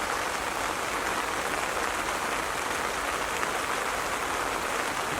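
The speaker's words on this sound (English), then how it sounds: "All of this happens with absolute pouring rain." Heavy rain pours down steadily at a fishing reservoir, a dense unbroken hiss of drops with no pauses. No other sound stands out.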